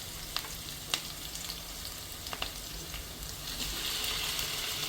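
Chicken going into a pan of softened onions and frying, a soft steady sizzle with a few light clicks early on, the hiss swelling slightly toward the end.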